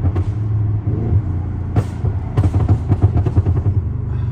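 A Hyundai i30N engine rumbles at idle, then a sharp burst of stock exhaust pops and crackles fires off in quick, irregular succession, loud and close.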